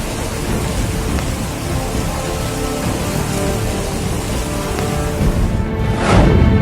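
Heavy monsoon rain in Bihar, India, pours steadily in a dense, loud roar, with a deeper rumble swelling near the end.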